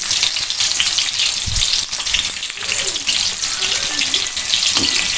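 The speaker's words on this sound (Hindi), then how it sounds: "प्याज को ब्राउन कर लेते हैं।" Onions browning in a generous amount of oil for phaliyan gosht give off a steady, close hiss of frying with watery sizzle, continuous and loud with a few small pops, and no voices.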